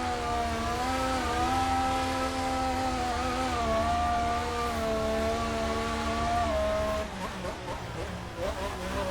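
McLaren racing cars accelerating around a circuit in Australia, a continuous loud engine whine rising and falling in pitch, with a commentator talking over it throughout.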